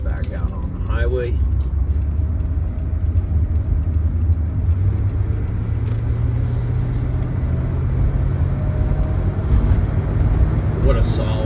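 A 1977 Mercedes-Benz 6.9 cruising on the highway, with a steady low engine and road rumble and wind noise running throughout, and someone talking over it.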